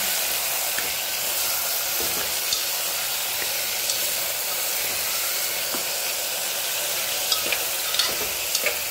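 Green peas and potatoes for ragda patties fry over a gas flame turned to full, giving a steady, loud close sizzle and hiss with a few light stirring knocks near the end, no speech.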